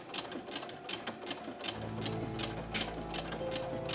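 A sewing machine runs steadily, stitching navy thread around the perimeter of a fabric Rohan banner. Its needle chatters in a fast, even rhythm close to the mic, with no talking.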